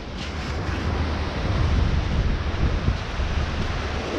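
Steady broadband wash of waves and wind at the edge of a bay shoreline during metal detecting, a continuous, fairly loud roar with gentle swells and no voices.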